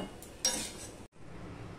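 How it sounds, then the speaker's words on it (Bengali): Cooked vegetables being scooped out of a wok with a metal utensil, a brief scrape and clatter of metal against the pan, then a quiet kitchen background. "এবার সবজিগুলো কড়াই থেকে নামিয়ে নেব।"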